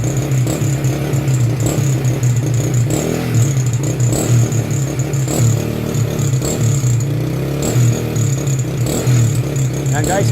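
A Honda motorcycle engine runs steadily after a repair to a misfiring carburetor, its loud, continuous mid-pitched drone broken by occasional revs, with people talking over it throughout.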